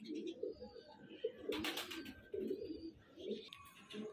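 Teddy pigeons coo softly in low, rolling bursts, repeating several times nearby, with a brief flutter and faint chirps in between.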